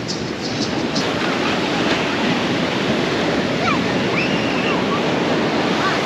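Big ocean waves roll onto Copacabana beach in Rio de Janeiro, a continuous loud wash of surf mixed with wind buffeting the microphone, with no clear breaks in the roar.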